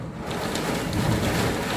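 Heavy rain in strong wind roars steadily, heard from a third floor during a thunderstorm in Saudi Arabia, a dense continuous wash of noise with no voices.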